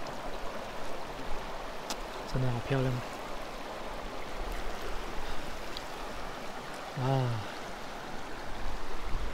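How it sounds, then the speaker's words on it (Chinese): Clear water from a snow-fed mountain creek on a forest trail rushes steadily at close range, a continuous burbling wash; someone speaks briefly over it in a few short bursts. "流水声"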